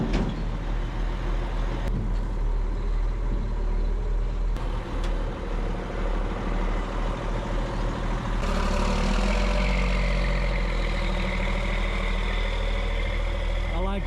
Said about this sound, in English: The way that old truck sounds.